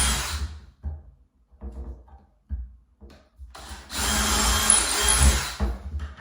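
Power drill boring handle holes through a cabinet door: several short bursts of whirring in the first few seconds, then a longer, louder sustained drilling run near the end.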